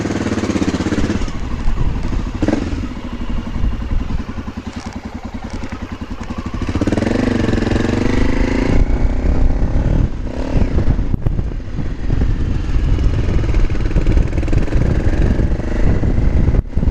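A motorcycle engine idles roughly and then revs as the bike pulls away down a street, loud and close to a camera-mounted microphone, with wind buffeting building as it moves.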